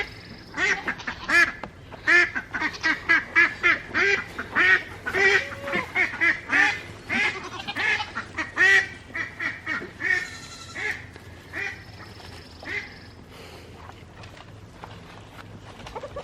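Ducks quack on a farm where chickens are also kept, with a dense run of loud, close, overlapping quacks that thin out into scattered calls toward the end.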